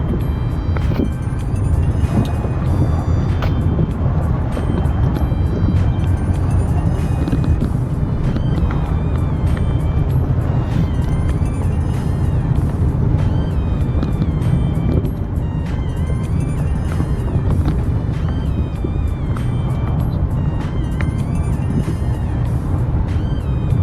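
A Peugeot 307 CC car on the move, a steady, loud engine and road rumble that continues without a break, with no talk over it.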